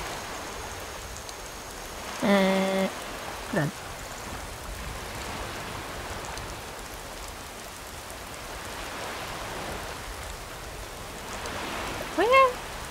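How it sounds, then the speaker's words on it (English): Steady rain falls in Skyrim, a constant hiss of drops that runs throughout, with brief voices and tonal game sounds rising over it now and then. "This rain is going to be a problem now."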